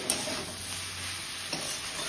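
Vegetables and fish fry together in a pan with plenty of coriander leaves, a steady close sizzle broken by a couple of scraping stirs of the spatula.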